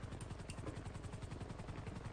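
A GTA V helicopter thumps steadily with fast, rhythmic rotor beats under a whirring engine, moderately distant and continuous with no talk.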